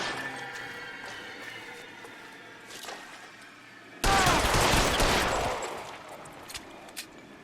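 Tommy gun bursts in the 1940s Los Angeles crime game L.A. Noire, a loud dense fusillade breaking out suddenly and rattling for about two seconds before tapering off, with a few scattered later shots.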